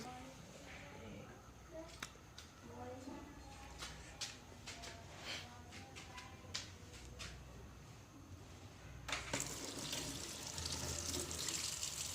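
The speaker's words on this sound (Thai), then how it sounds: "ไปล้างมือครับ" Water running from a tap during handwashing, a soft splashing flow with light clinks, growing louder and fuller near the end.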